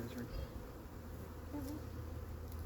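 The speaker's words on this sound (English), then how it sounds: "all these other bees that are in here" A soft, continuous buzzing of many honeybees close by, humming steadily around a hive as a wild swarm is installed, with faint individual insects drifting past.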